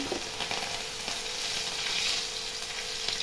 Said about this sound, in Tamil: அப்புறம் அந்த வாழைப்பூவும் கொஞ்சம் கொஞ்சமாக போட்டு சுடுங்க